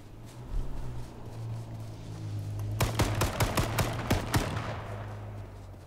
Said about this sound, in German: Der schießt auf mich.